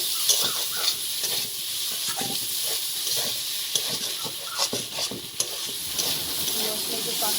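Raw spice paste fries and sizzles in hot oil in a home kitchen, a steady close crackling hiss with frequent stirring scrapes throughout.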